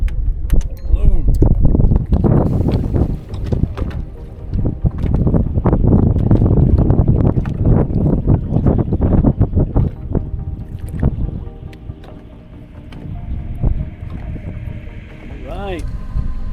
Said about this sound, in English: boy, that wind is kicking